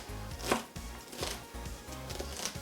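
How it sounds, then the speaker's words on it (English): Knife chopping a quarter of an onion on a cutting board, quick rhythmic close-up chops, about four per second, crisp and clear with no talking. "And then just chop away."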